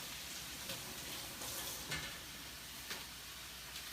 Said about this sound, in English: Got to stir this a little bit.